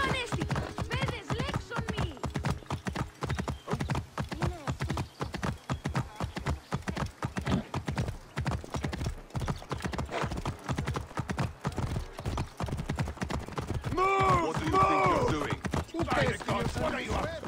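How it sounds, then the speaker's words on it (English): Horse hooves clip-clop at a light trot in the video game Assassin's Creed Origins, a brisk, even rhythm of hoof strikes running throughout, with a brief whinny-like sound near the end and faint talk in places. "Come on, horse, pick up some speed. This is like a light trot."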